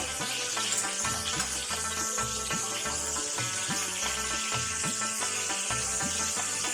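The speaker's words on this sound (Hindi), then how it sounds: "उसमें मटन डाल देना है और मटन डालने के बाद अच्छी तरह से इसको पहले थोड़ा सा फ्राई करना है" Mutton sizzles and hisses steadily in a hot, preheated karahi, a continuous bright frying noise running under rhythmic background music.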